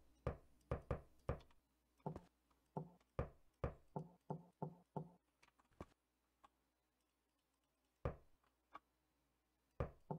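Knocking on walls in the video game Netgame Adventure. Sharp knocks come in quick clusters of two to four with short pauses between them. A few isolated knocks follow after a longer gap, all crisp and close against a quiet background.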